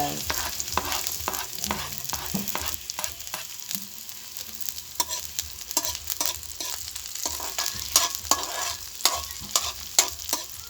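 Chopped onion sautéing in a pan over a medium flame for mung bean stew, a steady close sizzle with frequent clinks and scrapes of a utensil stirring, while a voice speaks briefly.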